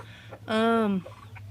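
A Brahma hen gives a single short clucking call nearby, clear against a low steady background hum.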